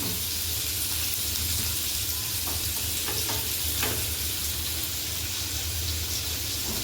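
Fish pieces frying in a small amount of oil, a dense, continuous hiss and crackle held steady at close range, with a few faint clinks of a utensil partway through.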